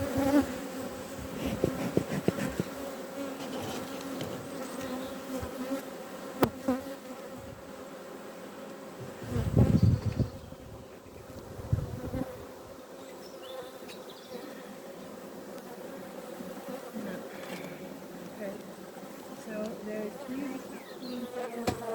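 Honeybees buzz steadily around a hive in Ireland in May, a dense droning hum with a few louder bursts as bees pass close.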